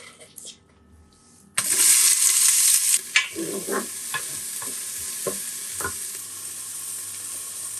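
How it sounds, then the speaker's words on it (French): Chopped onion browning in olive oil in a preheated Cookeo multicooker, a steady loud sizzle that starts abruptly and runs throughout, with a few light utensil knocks and stirring scrapes partway through. "pendant que l'oignon est en train de dorer dans le Cookéo"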